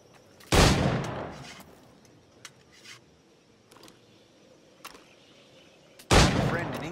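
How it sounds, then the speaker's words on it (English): Two loud, close firearm shots from the Assassin's Creed IV Black Flag video game, about five seconds apart, each with a sharp crack and short decaying tail, separated by quiet ambient background. "Good kick, yes? I long for the day where one firearm carries four bullets"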